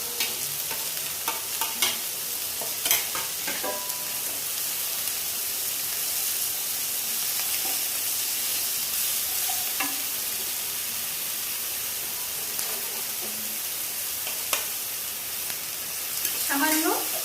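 Ginger and garlic paste fries in a small amount of oil for chili soya, giving a steady hissing sizzle broken by repeated scraping strokes of a spoon against the pan.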